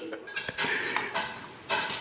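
Dishes and pots clatter at close range as several sharp clinks and knocks of plates and cutlery ring out in an uneven string, with no talking.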